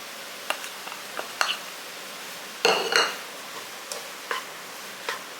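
A spoon stirs roasted, ground lentils and beaten rice together in a pan for a sweet, giving sparse metallic clinks and scrapes with one louder scraping burst midway, close and without talk.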